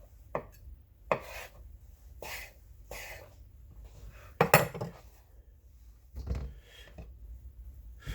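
A knife slices through lamb meat against the grain on a cutting board, giving a run of soft, close broadband strokes and scrapes at an uneven rhythm. There are sharper knocks and clatter in the middle and near the end, and no talking.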